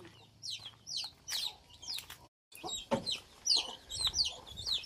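Village hens with young chicks clucking close by, a busy run of short clucks and peeping calls with a brief gap midway, no voices over them.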